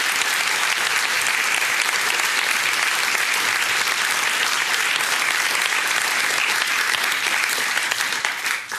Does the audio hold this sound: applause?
yes